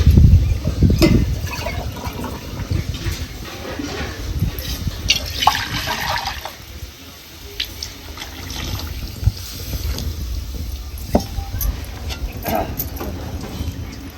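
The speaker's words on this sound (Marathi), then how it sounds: "आता आपल्याला थोडंसं पाणी घालायचं ह्याच्यात" Water is poured into a pan of village-style mung dal aamti, making a sloshing, trickling splash that is loud at first and then settles into softer bubbling and clatter.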